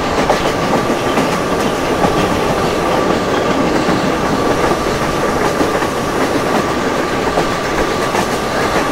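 A train runs on track in the Open Rails Indian train simulator, modeling a Mumbai CSMT to Pune Intercity Superfast Express, with a loud continuous rumble, rhythmic clickety-clack of wheels over rail joints and a steady tonal hum, no voices.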